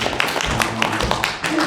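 An audience at a church lecture applauds with a brisk, uneven patter of hand claps that runs throughout, fairly close, while a voice talks faintly beneath it.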